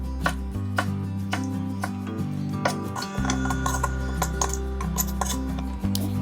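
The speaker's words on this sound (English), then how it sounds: "Then we're going to cut it to small cubes." A knife cuts peeled mango into small cubes on a board, a steady run of close, crisp chopping taps over soft background music, with no talking.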